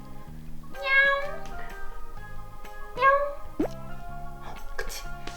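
A pet cat named Lala meows several times, up close, while a woman coaxes it in Korean and a steady background hum runs underneath.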